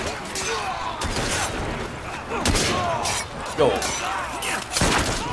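Gunfire from the video game Assassin's Creed Syndicate: a chaotic run of sharp shots and cracks amid thuds and clatter, fairly loud and continuous, with a voice speaking briefly over it.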